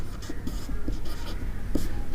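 Marker or chalk strokes on a board during a maths lesson, short scratchy squeaks in an uneven rhythm, close and clear with no talking.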